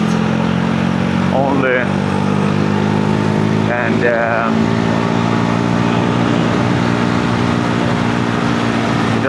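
A motorcycle engine drones steadily at close range with exhaust rumble while riding, and a voice speaks briefly twice over it.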